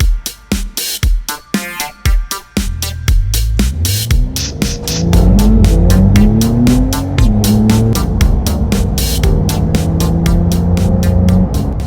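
A Porsche 911 Carrera 4 GTS drives past, its engine note rising and falling in pitch as it goes by, loud and close, after a stretch of rapid clicking or fluttering pulses.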